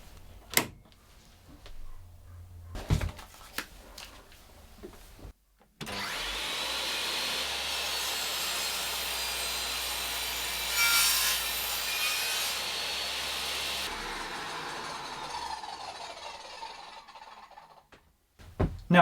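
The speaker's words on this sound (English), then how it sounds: "let's power this saw on and make the first cut" A table saw cuts through wood: a few clicks and knocks, then the motor spins up into a loud steady whine, the pitch rising as the blade bites and holding until the cut ends and the saw winds down, with no voices.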